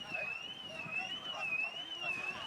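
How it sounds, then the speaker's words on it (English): A car alarm goes off near an American football game, a loud wavering electronic siren tone cycling steadily up and down, heard under faint crowd and voice murmur. "Ignore the screaming car alarm."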